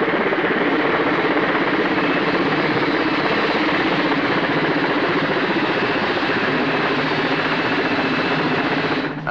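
A Mil Mi-10 heavy-lift helicopter runs loud and steady during a demonstration at Gatwick, its engine and rotor roar forming a dense continuous drone close by.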